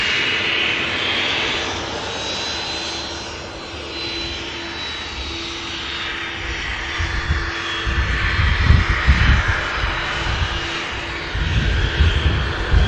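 Aer Lingus jet airliner spooling its engines up at Manchester Airport, a loud steady roar with a whining tone that swells and rumbles more heavily toward the end, with no talk.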